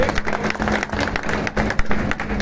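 An audience at a party claps in a dense, steady patter of many hands, fairly loud and close, with brief dips and one sharper clap standing out.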